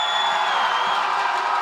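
Loud, dense crowd cheering and whooping at the IPL5 esports tournament in support of CLG.EU during a League of Legends match, a continuous roar with no gaps.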